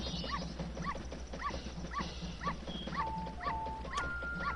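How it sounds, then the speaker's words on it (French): A dog in the video game Zelda: Majora's Mask gives a steady run of short whimpering yips at an even pace over game music, with a few chimes near the end. "le chien nous suit"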